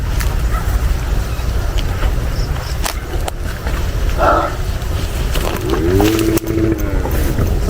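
A motorboat engine drones steadily over loud wind and water noise, with a brief rising engine whine near the end.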